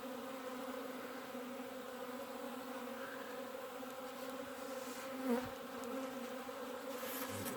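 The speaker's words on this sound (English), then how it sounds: "Just a bit of bees." Honey bees in a hive in late-February Wisconsin winter give off a faint, steady, low drone, a continuous close buzz with one brief louder rustle partway through.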